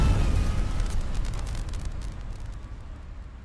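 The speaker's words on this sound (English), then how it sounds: "What caused the explosion?" A high-voltage flashover explosion bursts from an HV cabinet in a coal mine, opening with a loud broadband blast that decays into a fading roar and crackle over a few seconds.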